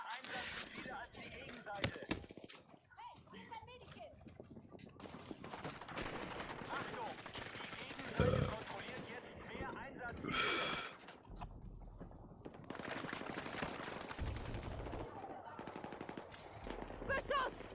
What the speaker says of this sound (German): Beschuss! Feindliche Infanterie!